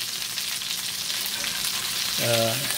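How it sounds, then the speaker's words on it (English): Chicken browns in a Lodge cast iron pan with a steady, soft sizzle of frying throughout and a short hum or tone near the end. "So, we're just getting it browned, kind of like we"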